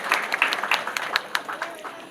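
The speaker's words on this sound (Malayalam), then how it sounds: "ഒരു കൈയടി കൊടുത്തുകൊണ്ട് നമുക്ക് ചേച്ചി ആദരപൂർവ്വം സ്വാഗതം ചെയ്യും" An audience claps to welcome Pauly Wilson at a movie pooja event, a steady patter of many hands with crowd murmur underneath.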